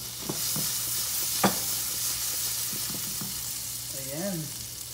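Potatoes frying in a pan for a potato omelette give a steady, close sizzle with a few sharp utensil clicks, plus a brief rising-and-falling tonal squeak near the end.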